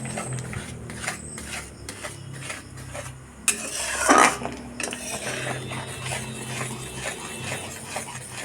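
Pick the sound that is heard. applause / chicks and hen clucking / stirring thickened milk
stirring thickened milk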